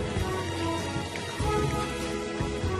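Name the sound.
rain falling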